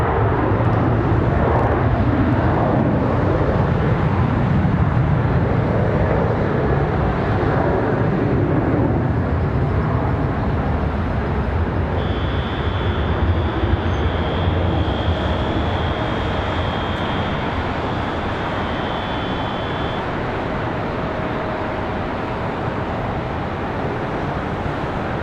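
A Boeing 737-8 airliner departs Charlotte Douglas International Airport, its jet engines producing a steady, loud, broad roar that fills the whole stretch and eases off slightly near the end, with a faint high whine partway through.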